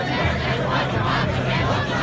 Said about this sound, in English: It's a pretty big crowd.